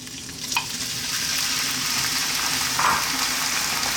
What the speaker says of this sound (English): Got some olive oil in there and we're going to start off with our lamb.